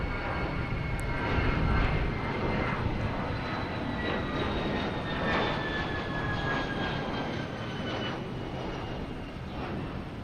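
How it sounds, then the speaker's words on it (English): An Embraer E-Jet takes off at Boston Logan Airport, its broad, steady jet-engine roar holding loud and close for the full stretch, with faint rising whine tones threading through. "we got an E-Jet taking off, and we got a JetBlue A220 coming in from Pittsburgh at the same time"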